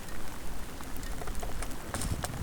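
A heavy downpour falls on an open, grassy high plateau where a newborn calf lies. The rain hisses densely and steadily with scattered patters of drops close by, and no one speaks.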